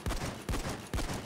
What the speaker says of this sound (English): The secondary, which I'm testing right now, is the Locomotive 12 gauge.